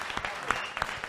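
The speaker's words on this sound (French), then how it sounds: "Applaudissements pour Passia Magicieuse" Audience applause for a female magician at the finale of a card trick show, a steady wash of clapping with a few sharper claps standing out.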